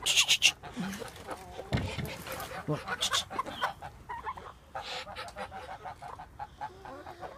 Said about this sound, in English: Chickens are doing well.